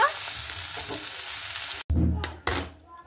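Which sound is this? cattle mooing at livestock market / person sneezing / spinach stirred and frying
spinach stirred and frying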